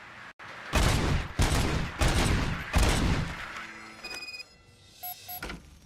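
Gunfire in a video game crackles in several loud, dense bursts, followed by quieter electronic game tones and chimes, with no one speaking.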